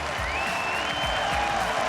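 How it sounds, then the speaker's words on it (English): A large arena crowd at a League of Legends All-Star esports event roars and applauds in a dense, continuous wash of cheering, with a high whistle-like tone gliding above it. "The crowd going absolutely nuts."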